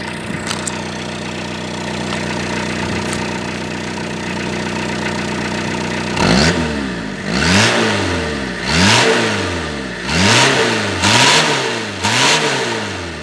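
A 1993 Citroën ZX Volcane 1.9 turbodiesel engine idles steadily, then revs up and down repeatedly in regular bursts, each rise and fall loud and close.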